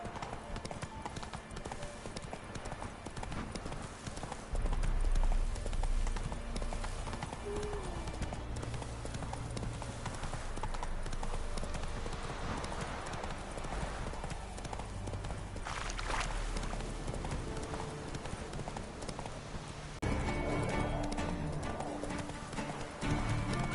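Roach, a horse in the video game The Witcher 3, trots with a steady, continuous clip-clop of hooves under game ambience, with a brief snort or whinny and a voice urging it on.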